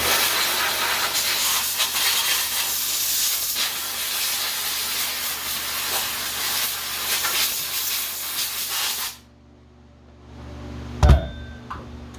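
Compressed air blasts steadily through a new saw in a shop for about nine seconds, a loud continuous hiss that cuts off abruptly, leaving near silence broken by a brief clunk.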